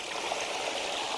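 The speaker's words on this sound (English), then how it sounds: "I open the reservoir, water comes out" Water gushes steadily from an opened reservoir beneath an undershot water wheel in a small demonstration model, a continuous close rushing wash with no other sounds.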